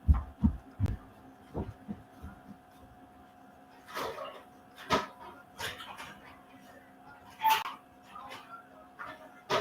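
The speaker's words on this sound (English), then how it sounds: "here comes the barking as Anna, our cleaning lady, is coming in" A dog barks in scattered sharp bursts, some close and loud, others softer, with quiet pauses between them.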